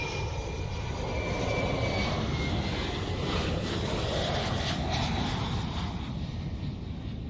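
Steady, continuous jet engine roar from a BAE 146 airliner in the X-Plane 12 flight simulator on a flight from Tampa to Miami, unbroken and fairly loud throughout with no talk.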